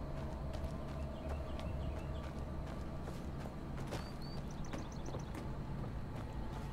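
Horse hooves clip-clopping at a steady rhythm in the video game Skyrim, faint and continuous, with a few bird chirps over the ambience.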